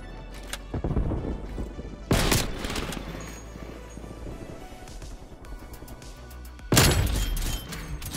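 Napalm strike explosions in Call of Duty Cold War, with three loud booming bursts spaced across the clip over a constant rumbling, crackling battle bed.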